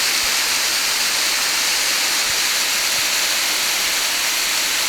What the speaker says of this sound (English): check out this big waterfall down below.